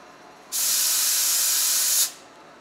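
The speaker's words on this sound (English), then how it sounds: "there's an air blast at the end of each cycle to blow out the chips from the cutter body" A compressed-air blast clears chips from the cutter body on a Haas TL-2 CNC lathe while rifling a barrel: one loud, steady hiss lasting about a second and a half, close by, with a sharp start and stop and no talk.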